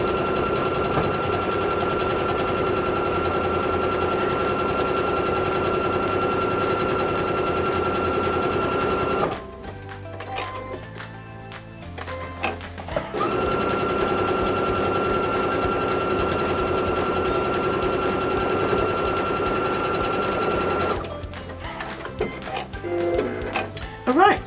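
A sewing machine stitches an envelope cushion in steady, loud mechanical runs, pausing briefly around the middle with soft handling noises before resuming, then stopping again near the end.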